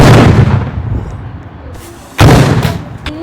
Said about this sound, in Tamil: ஐயோ நம்மளும் ராக்கெட் லான்ச்சர் அனுப்போம்.